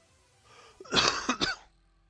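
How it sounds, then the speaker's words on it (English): A few harsh, close coughs from a person with acid reflux in quick succession, loud and abrupt against an otherwise quiet background. "I do apologize for all the coughing"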